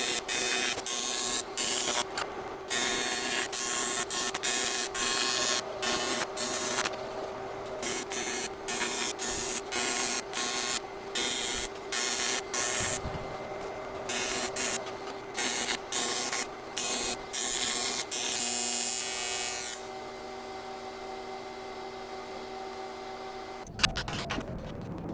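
Welding a filter mount onto the box of a rebuilt 300hp mini jet-boat: a steady crackling buzz runs in repeated bursts with brief breaks, then gives way to a quieter hum, with no voices.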